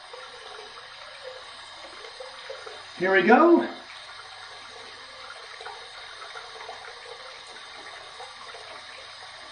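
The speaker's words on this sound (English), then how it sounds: "I'm going to run under some hot water." Hot tap water runs over a Gillette safety razor in a short splashing burst of under a second, set against a quiet bathroom background.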